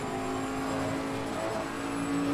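Old Bentley race car engine in a racing video game, a steady sustained drone with a constant tone throughout, holding a fairly even level and rising slightly toward the end, with no talking.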